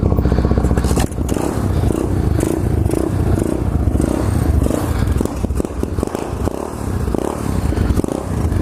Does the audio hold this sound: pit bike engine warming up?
yes